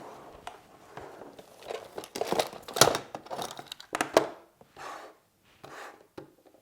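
Loose art supplies such as watercolors and pastels are tipped out of a container, a close clatter and rustle of small items tumbling in uneven bursts that peak midway and then trail off into scattered knocks.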